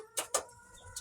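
Pigeons for sale at a bird market, heard as two quick, fairly loud bird calls close together and a fainter third call near the end, over a quiet market background.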